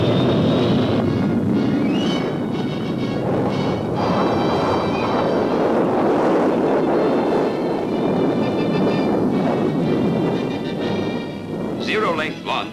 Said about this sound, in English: When it jumps from its short runway, the plane will accelerate from 0 to 275 miles per hour in 4 seconds.